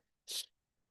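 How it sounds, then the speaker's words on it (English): A single short, sharp sneeze bursts out close by, with near silence before and after. "I feel a sneeze coming on."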